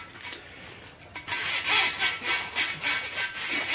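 A long brush scrubbing the oil galleries of a 351 Cleveland V8 engine block sprayed with brake cleaner, a quick series of close, rhythmic raspy back-and-forth strokes after a brief quieter scraping start.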